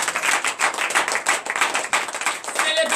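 A church congregation at a Sunday service claps in acclamation in a fast, steady, rhythmic beat that runs through the whole clip. A voice carries faintly beneath the clapping.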